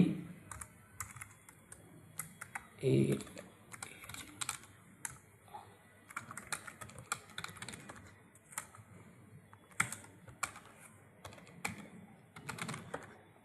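Login details are typed on a computer keyboard in bursts of close clicking keystrokes with short pauses and a louder tap or two, quiet overall with no talking.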